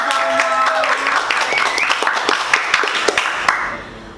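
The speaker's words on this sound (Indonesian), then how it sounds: "Kru-kru yang di belakang boleh dong kasih tepuk tangan yang meriah buat Kak Anzalna." Crew members applaud at an Indonesian TV talk show, a burst of scattered hand claps behind and around a fading tonal music bed, steady for about four seconds before tapering off.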